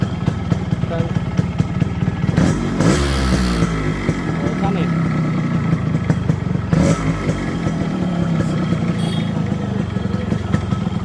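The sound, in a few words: Yamaha RX 100 motorcycle engine running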